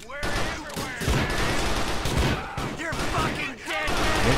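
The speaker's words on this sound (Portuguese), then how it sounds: "Tô aqui com a minha shot, que eu vou sentar o dedo em todo mundo." Shotgun fire in the game GTA IV: The Lost and Damned, a dense run of loud, overlapping blasts filling the whole stretch, with a voice speaking under the gunfire.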